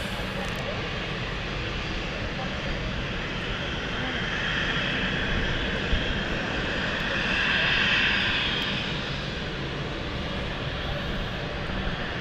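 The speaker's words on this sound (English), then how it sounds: "It's going up in the air. Yeah, it's going higher." Airplane taking off from London City Airport, a continuous loud engine roar at a distance that swells around the middle and holds steady, with people talking over it.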